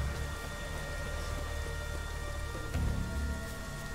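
Steady rain falls in The Witcher 3 video game, a continuous hiss of drops with a low rumble underneath, holding an even level throughout with a slight swell near the end.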